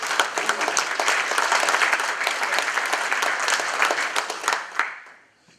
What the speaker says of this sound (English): Can we get a round of applause for everyone that joined?